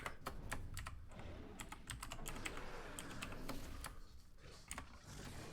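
Rapid, uneven keystrokes clatter on a computer keyboard at a desk, a close, soft stream of clicks with brief pauses and no talking.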